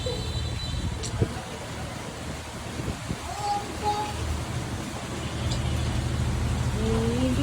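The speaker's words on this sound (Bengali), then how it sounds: "আমি একটু বৃষ্টির ভিডিও করে" Rain falls on an afternoon as a steady, diffuse patter and hiss that swells slightly toward the end, with faint voices and a passing low rumble underneath.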